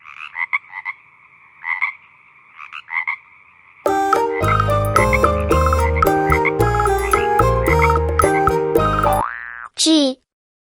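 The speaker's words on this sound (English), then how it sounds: "F for frog." A frog croaks in short, repeated bursts in an animated children's alphabet piece. A loud, bright musical jingle with a springy boing follows and plays over the croaks.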